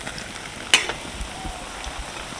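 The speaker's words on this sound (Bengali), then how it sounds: "সবগুলো এক পিঠ ভাজা হয়ে গেছে উল্টে দিচ্ছি" Onion fritters in batter, just flipped in a kadai of hot oil, fry with a soft steady sizzle, punctuated by a sharp clink early on and a few faint scrapes.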